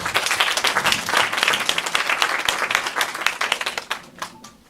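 Loud, dense applause fills a hall at a Catholic film festival closing ceremony as director Lee Jeong-hyang is welcomed to the stage, holding steady before tapering off at the end.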